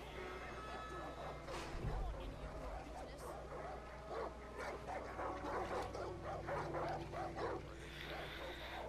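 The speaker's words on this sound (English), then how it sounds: "Well, yeah, a lot of dogs here." Several dogs bark and yip in the Far Cry 5 video game, a busy run of overlapping barks and whimpers at moderate distance, with people talking over the noise.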